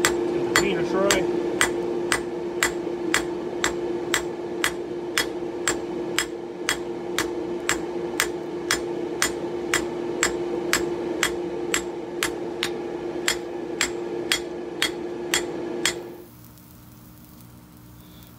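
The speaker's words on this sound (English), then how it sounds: "just got a piece of scrap 1/2-inch square, nothing fancy. Give the peen a try." A newly forged hammer's peen strikes a piece of scrap half-inch square steel, a long run of evenly spaced, ringing metallic blows, loud and close over a steady background hum, ending abruptly near the finish.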